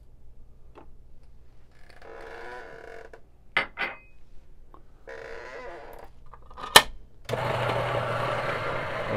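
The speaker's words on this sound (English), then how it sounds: "Just gonna start my coffee grind." A few clicks and handling knocks come first, then an electric coffee grinder starts up and grinds beans for espresso with a loud, steady, dense whir through to the end.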